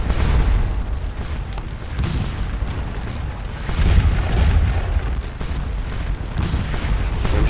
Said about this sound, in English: our cannons are doing a lot of work